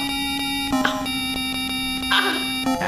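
Chiptune music from the Hercules Game Boy game: steady, bright square-wave tones that shift notes at regular intervals, like a bouncy electronic jingle.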